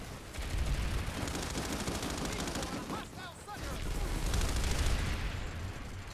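Dense, sustained bursts of automatic gunfire in the video game Planetside 2, rapid overlapping shots with a brief lull midway before the firing picks up again, loud and continuous.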